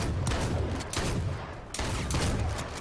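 Gunfire in the survival shooter H1Z1: dense, loud bursts of rapid shots crackling almost continuously, with brief dips between volleys.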